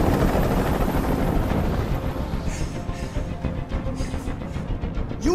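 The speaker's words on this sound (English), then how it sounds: "I can't stand that noise anymore. Tell that helicopter to get out of here." A helicopter hovers close by in Detroit: Become Human, its dense rotor roar loud and steady throughout with a heavy low rumble.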